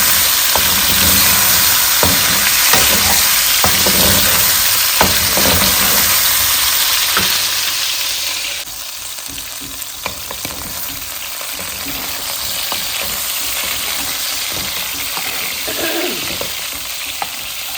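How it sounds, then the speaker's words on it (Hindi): Chicken fries in oil over a high flame for a village-style chicken curry, a loud steady sizzle with sharp crackles that quiets a little partway through. "तकरीबन 5 से 10 मिनट हम इसको फ्राई करेंगे ऑयल में तेज आंच पे।"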